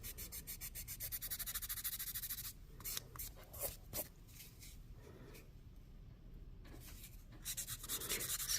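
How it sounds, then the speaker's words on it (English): Metal is rubbed off the back of a hammered copper bead frame pendant, producing a faint, close, steady abrasive rasping in back-and-forth strokes with brief pauses and no speech. "I'm rubbing off that metal because you don't want it on there because it makes the copper oxidize funny"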